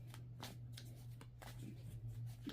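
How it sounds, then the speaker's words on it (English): Tarot cards being shuffled by hand, a quiet run of soft rhythmic riffling and flicking strokes close up, with a steady low hum underneath. "I'm shuffling on camera"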